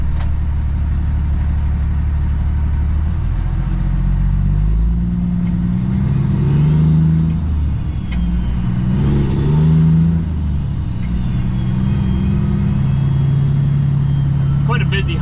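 Busy traffic on Highway 17, the Trans Canada Highway, heard from a truck cab: a steady low engine and road rumble runs throughout, with passing vehicles swelling and fading, under ongoing talk.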